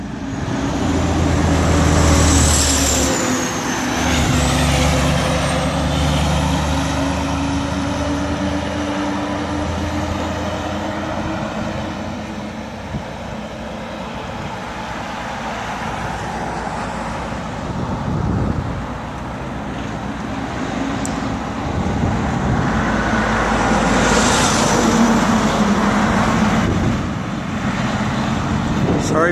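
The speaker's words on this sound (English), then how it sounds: "We're standing on a bridge about 8 inches from trucks going by trying" Heavy trucks roaring past at close range on a road bridge over the Passamaquoddy river, with a steady loud traffic rumble and wind buffeting that swells as each vehicle passes, voices faintly audible beneath.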